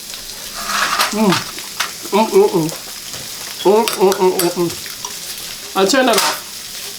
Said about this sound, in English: Because of the heat in the pan, it's going to continue to sizzle.